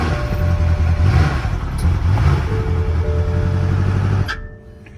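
A car engine runs close and loud at a steady, slightly rough idle with a low rumbling drone, then cuts off abruptly near the end, leaving quiet.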